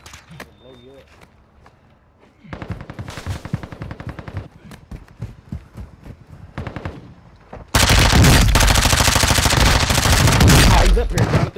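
Call of Duty Plunder gunfire, scattered shots and footsteps at first, then bursts of rapid automatic fire that swell into a loud, sustained fusillade, with a player talking over it.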